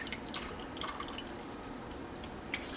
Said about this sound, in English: I'm dripping milk everywhere.